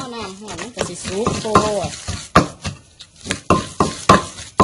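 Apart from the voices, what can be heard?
stirring and pounding fish laab in a mortar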